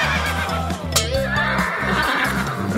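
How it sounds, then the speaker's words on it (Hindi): A horse on a farm neighs close by, a loud shrill whinny that breaks out near the middle over a steady low background hum, with little talk. "घोड़ा।"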